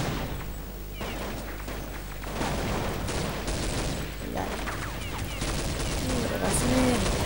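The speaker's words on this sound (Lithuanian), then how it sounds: "Čia galim pasirinkti triplazerius, kitokius šūvius." Gunfire from the video game Counter-Strike, a dense stream of rapid shots and bursts running continuously throughout, loud and busy with game effects layered over it.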